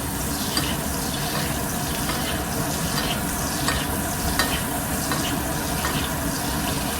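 Steak basting in a hot frying pan, a loud continuous sizzle and spatter with rhythmic swishing of fat spooned over the meat, close and steady without speech.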